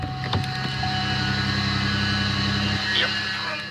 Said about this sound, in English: this is a cold start of my 2002 Buick Rendezvous